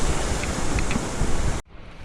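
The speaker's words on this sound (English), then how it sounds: "that is some really healthy creek flow for mid-August. Look at that white water, baby." A fast-running mountain creek with white water on the Bishop Pass trail to Treasure Lakes in mid-August gives a steady, dense rushing roar, close and loud. It cuts off abruptly near the end to faint wind.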